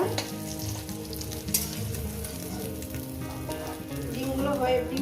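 Halved eggs fry in hot oil in a pan for a spicy Bengali egg curry, giving a quiet, continuous sizzle and crackle over a steady tonal background hum, with no speech.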